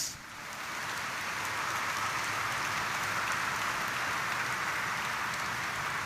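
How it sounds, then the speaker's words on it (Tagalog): A church congregation applauds loudly during a Simbang Gabi evening Mass homily, a sustained, even roar of many clapping hands that swells in the first second and then holds steady. "pumalakpak ng malakas"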